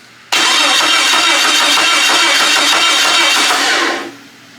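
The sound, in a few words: Jeep XJ engine running with possible lifter noise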